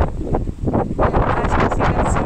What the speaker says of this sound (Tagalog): Ganito kahangin dito.